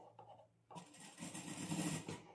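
A domestic sewing machine starts up after a quiet moment and runs steadily, stitching a neck strip onto a garment, a close, continuous mechanical whir with no talking.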